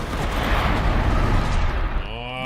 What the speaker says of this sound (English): Oh, more explosion for you.